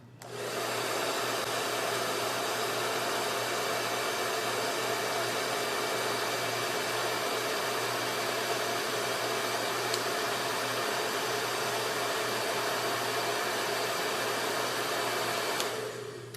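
A hair dryer fitted with a diffuser blows steadily on its cool setting, a loud, even whooshing hum with a faint motor tone that runs unbroken for the whole stretch before a brief tail-off at the end.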